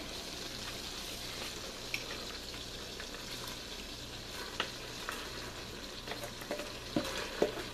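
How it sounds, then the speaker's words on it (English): Diced vegetables sauté quietly in a pan, giving a soft, even sizzle with occasional light clicks from stirring toward the end, and nobody speaks. "now it's time to saute the vegetables"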